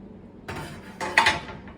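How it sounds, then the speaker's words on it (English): A metal pot lid clanks and scrapes in a few quick knocks as it is lifted off a simmering pot of soup, ending with a bright ringing clink, close and fairly loud. "So I'm going to take the lid off."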